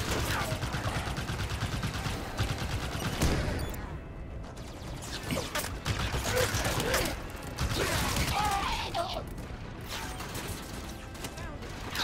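Turret gunfire in the Halo 5 video game rattles in dense, continuous bursts with mechanical clatter, fairly quiet and steady across the whole stretch, briefly thinning before resuming.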